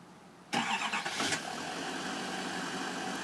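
A 2015 Chevrolet Silverado 2500HD Z71 LTZ diesel is started by remote, with a sudden crank that settles after about a second into a steady, moderately loud idle.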